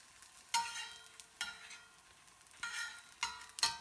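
Crisp bursts of sizzling from a thin pearl millet dosa frying on a hot pan, rising and falling in short spurts with quiet gaps between, close and fairly soft, no voices.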